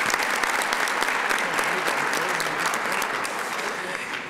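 An audience at the Tampa Black History celebration applauds, dense continuous clapping from a large crowd that holds steady and fades slightly toward the end.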